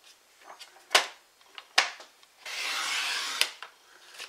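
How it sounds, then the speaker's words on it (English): A paper trimmer slices card diagonally from a score line to the bottom corner, with a few sharp clicks of the blade and a short scraping cut, close and quiet. "we're going to bring in our trimmer, and we're going to trim from this score line here down to this bottom corner in our trimmer"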